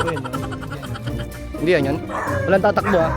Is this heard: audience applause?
no